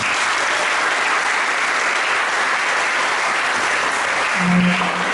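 A congregation applauds at a Christian sermon gathering, dense continuous clapping from a large crowd, loud and sustained throughout.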